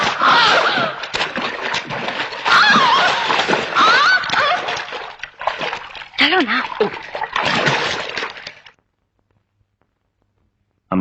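Someone falls into water with sloshing splashes, heard under loud, excited shouting voices, before everything drops to silence.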